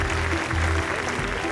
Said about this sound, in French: Mesdames et messieurs, applaudissez.